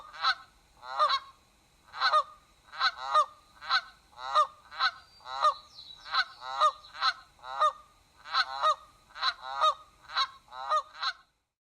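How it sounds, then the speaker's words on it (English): Canada goose honking: a long series of loud, regular honks, roughly one or two per second, clear and close with no other sounds around them. "The Canada goose is one of the most easily heard and most vocal waterfowl birds out there"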